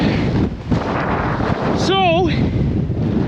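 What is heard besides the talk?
wind blowing across snowy farm field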